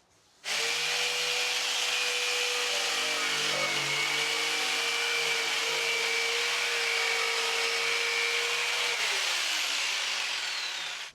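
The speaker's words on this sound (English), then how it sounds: "Cut that with a jigsaw" Jigsaw cutting through a board during a small bedroom makeover, a loud, close, continuous buzzing saw stroke running for about eight seconds, then winding down as the cut ends.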